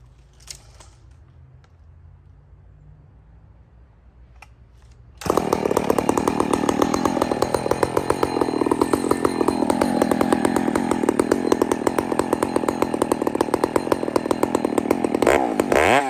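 Chainsaw with a freshly sharpened chain cutting wood, starting after about five seconds of quiet and then running loud and steady under load with a constant buzzing roar until the end.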